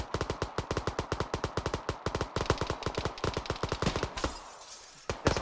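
Rapid automatic gunfire in the military game Arma 3 rattles off in long, tightly spaced bursts of loud, close shots, then briefly fades before a final shot.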